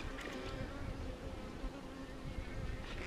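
Honey bees buzzing continuously at an open hive during an inspection, a steady close drone with a few individual bees passing near, heard without speech.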